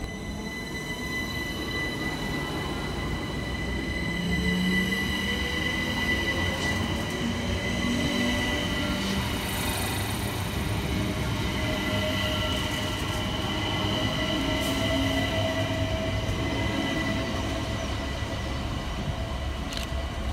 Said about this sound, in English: Next out to depart is 378213, working the 1450 London Overground service from Clapham Junction through to Stratford.